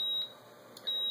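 A steady, piercing 3825 Hz blue box seizure tone generated by an Arduino, heard as a single high electronic beep that dips partway and then returns at full level.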